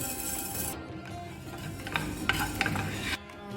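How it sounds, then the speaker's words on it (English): Coriander seeds dry roasting in a pan over a low flame, a steady scratchy rasp of seeds being stirred and shaken against the metal, with a few sharper scrapes, close and moderately loud with no talking. "On a low flame, I am adding first coriander seed."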